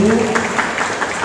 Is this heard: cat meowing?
no